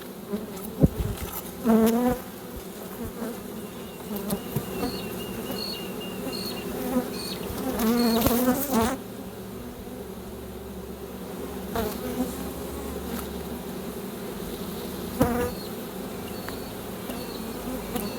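Honey bees buzz steadily around a hive, with individual bees droning louder as they fly close past, over a constant low hum of the colony.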